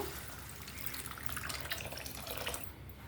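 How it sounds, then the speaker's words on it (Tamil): Water pours steadily into a pot of colocasia and poppy seed curry with a gurgling, splashing sound, close by and continuous for a few seconds. "தேவையான அளவு தண்ணியும் சேர்த்துடலாங்க."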